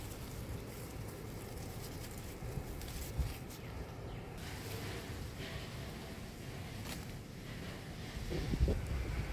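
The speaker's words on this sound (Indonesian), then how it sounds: "Tuh di sini anginnya lagi kencang." Strong morning wind blowing steadily through a home garden yard, a continuous broadband rush with gusty buffeting against the microphone and a slight swell near the end.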